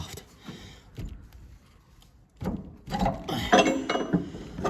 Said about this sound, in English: this motor will slide off that shaft